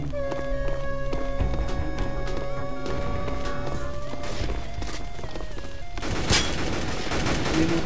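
Gunfire in the Roblox game Counter Blox, with rapid shots and bursts over a musical background, with a sharp louder burst near the end.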